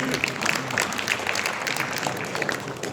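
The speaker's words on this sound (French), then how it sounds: "Ouais, on peut t'applaudir." Audience applause at a public question-and-answer meeting, a moderate burst of mixed clapping from the room with scattered voices underneath, heard at middle distance.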